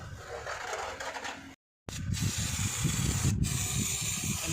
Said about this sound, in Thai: เราต้องใช้สเปรย์ฉีดล้างก่อนนะครับ